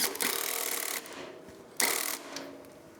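A 10mm socket wrench tightens the nuts on handlebar fittings of a 2024 Triumph Speed Twin 1200, giving two short close-up bursts of ratcheting clicks separated by a brief pause.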